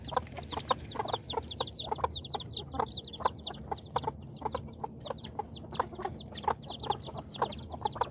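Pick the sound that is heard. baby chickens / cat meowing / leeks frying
baby chickens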